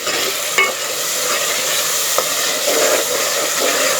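Spices with two cloves sizzle and fry in a hot pan for a kofta curry, a loud continuous hiss with occasional stirring scrapes and clinks, no talking.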